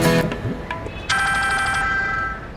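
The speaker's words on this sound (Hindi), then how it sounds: "ये तो विक्की साहब का फोन है।" A phone ringtone starts up and rings steadily as an electronic melodic trill, fairly loud and close, with a brief clatter of noise just before it begins.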